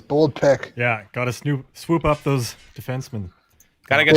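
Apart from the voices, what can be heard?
No everyday noises stand out.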